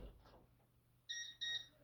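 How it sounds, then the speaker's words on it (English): Concord 4 alarm panel chiming for the front entry door: two short, bright electronic beeps in quick succession, clear and close over a quiet room. "So now, when I go to the front entry door, it should beep at me."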